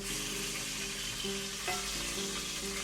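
Hong Kong hilsa fish frying in a pan while being stirred, giving a steady, close, continuous sizzle with no talking.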